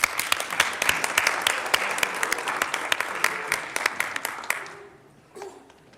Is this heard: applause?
yes